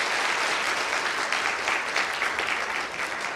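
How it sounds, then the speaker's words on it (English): Enthusiastic audience applause for volunteers at a lecture, a thick, even roar of clapping that holds strong and loud for the whole stretch. "a big round of applause for our volunteers"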